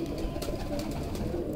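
Red-eyed pigeons coo in a low, continuous murmur, several birds close together with soft overlapping calls and no talk.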